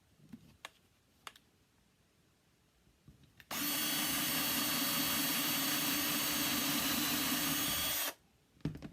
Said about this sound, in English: So then we're going to go ahead and drill on the letter.